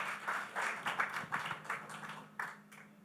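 An audience claps in steady, moderately loud applause at a promo launch event for a History TV18 show, the clapping continuing unbroken for a few seconds before thinning toward the end.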